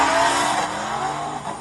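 A car engine idles loudly and steadily up close, a rough, continuous growl with no voices.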